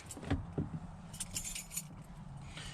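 Keys jangle close by in a couple of quick metallic bursts, then settle into faint clinks and rustle outdoors with no talk.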